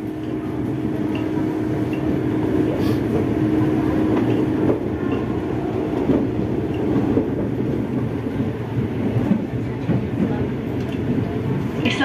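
A commuter train pulls into Tambun Station, heard from inside the carriage as a steady loud rumble of wheels and car noise. An onboard announcement voice speaks over it.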